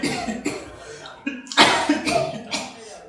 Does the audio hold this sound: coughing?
yes